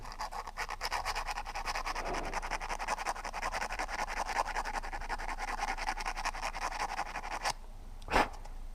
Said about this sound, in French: Là, c'est du 240. Vous le prenez comme ça et vous grattez.